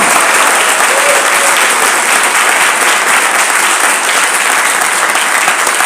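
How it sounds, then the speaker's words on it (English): Sustained round of applause from a large audience at a 2024 leadership conclave, dense steady clapping throughout with no gaps, close and loud. "So you give yourself that round of applause for being here today with me."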